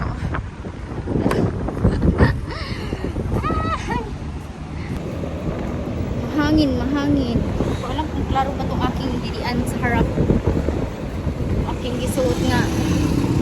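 Steady wind buffets the microphone with a rushing roar, mixed with water and engine-like noise while people talk over it.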